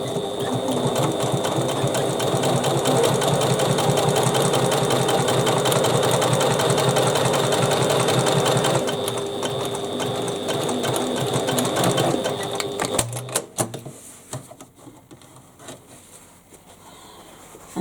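A sewing machine top stitching a bag runs loud and steady at close range for about thirteen seconds, then slows into a few uneven stitches before stopping.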